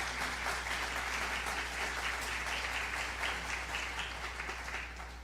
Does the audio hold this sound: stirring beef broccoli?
no